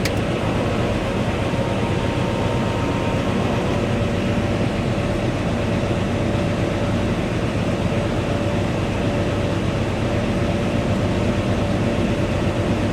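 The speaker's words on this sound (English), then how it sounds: "I heard the motor run." An engine runs on the left-hand gas tank with a steady, dense rumbling drone and a faint tonal hum on top, continuous and unbroken throughout.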